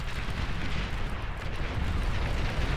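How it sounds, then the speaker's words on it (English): Napalm artillery bombardment lands on medium tanks in a strategy game, a steady, rumbling wash of explosions with no distinct gaps, moderately loud and heavy in the low end. "my napalm artillery doing a lot of damage across a lot of those medium tanks"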